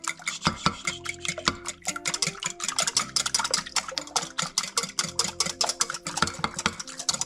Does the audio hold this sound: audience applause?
no